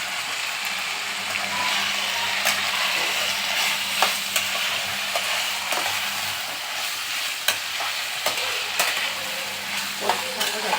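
Capsicum, green chilli and tomato stir-frying for biryani, a steady loud sizzle in hot oil with occasional scrapes and clinks of a spatula against the pan.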